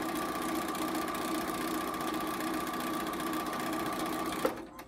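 A sewing machine stitches dark and light fabric blocks for a gingham table runner, running at a fast, steady mechanical rattle close by before stopping abruptly near the end.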